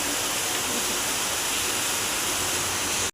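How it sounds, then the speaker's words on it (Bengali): Heavy rain pours steadily outside a balcony onto a street where water collects, a dense, loud, unbroken hiss that runs alone for the whole stretch before stopping abruptly. "দেখো আমার ব্যালকনির থেকে দেখা যাচ্ছে কেমন পরিমাণে বৃষ্টি হচ্ছে"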